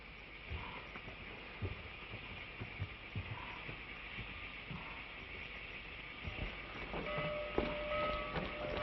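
A train rumbles steadily along in a 1936 film, with rhythmic clacking of wheels on rails, a continuous low mechanical roar throughout.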